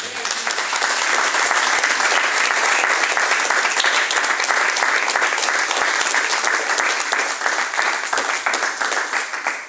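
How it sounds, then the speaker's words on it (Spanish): A church congregation claps together at a service, loud, dense and sustained applause with rapid hand claps filling the room for nearly ten seconds before fading slightly at the end. "puede decir amén y darle así un fuerte aplauso a Dios."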